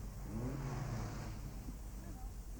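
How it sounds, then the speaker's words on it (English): A 1970s rally car on the San Remo or RAC rally accelerates along narrow paved town streets, its exhaust a steady revving roar, with someone talking over it throughout. "The normally quiet paved streets echo to the sound of exhausts."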